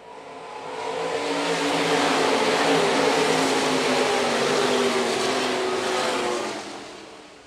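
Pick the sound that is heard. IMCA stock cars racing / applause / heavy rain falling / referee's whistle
IMCA stock cars racing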